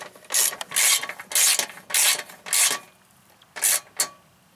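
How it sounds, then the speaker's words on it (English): A ratchet wrench tightens the deck bolts on an MTD LT5 riding mower with a 42-inch deck, giving about seven close, loud bursts of rapid clicking separated by short pauses, with no talking. "We're going to take our ratchet."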